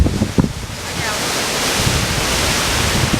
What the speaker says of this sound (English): It's just a little breezy. We figure this is like 30 or 40 miles an hour, maybe a little bit more.